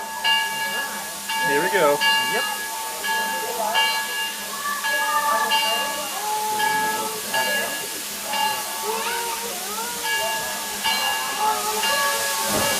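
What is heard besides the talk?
small steam train hissing at Hesston Steam Museum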